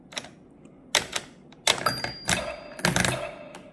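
A ROKR 3D Pinball functional mechanical jigsaw puzzle gives a short, clear high ding amid a run of clacking and thunking as the ball rolls and strikes parts. It is close and moderately loud, with no voices.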